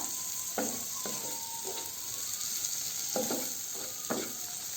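Tomato masala frying in oil for bhindi masala, cooked until the oil separates: a soft, continuous sizzle with several distinct spoon scrapes and stirs, heard close with no speech.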